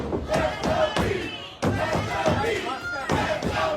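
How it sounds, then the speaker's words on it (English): A wrestling crowd roars at a WE Tag Team Championship match, rising and falling in surges. Heavy thuds from the ring and commentators talking sit over the noise. "Crowd getting behind Keith Mack, trying to will him back into this match"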